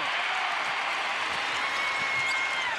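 A basketball arena crowd roars loudly and without a break at a close game between UTSA and Western Kentucky, a dense wall of cheering and noise that stays strong from start to finish.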